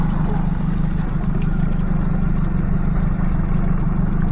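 A Yamaha 70 HP outboard motor on a MacGregor 26X sailboat idles steadily in neutral at 750 RPM, a low, even rumble with faint watery wash, close and unchanging.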